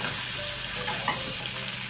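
Drained penne hits hot oil with butter and garlic in a pan, producing a loud, dense, continuous sizzle and spatter at close range throughout, with no voices.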